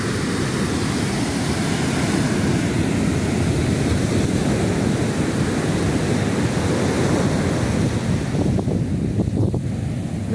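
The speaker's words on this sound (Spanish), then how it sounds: "Viendo las olas del Océano Pacífico." Pacific Ocean waves breaking on the beach at Boca del Cielo, Chiapas, a loud continuous roar of surf mixed with wind buffeting the microphone, with no talking.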